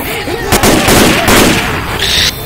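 Video game gunfire in Left 4 Dead 2, dense rapid shots and bursts rattling continuously and loudly, with game sounds layered on top.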